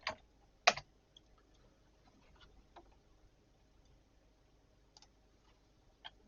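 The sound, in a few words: typing a command on a computer keyboard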